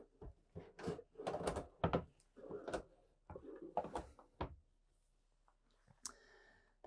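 Drawers in a 2025 Newmar Bay Star RV slide open and shut in a series of close thuds, rattles and clicks, some overlapping, then the sounds thin out and stop.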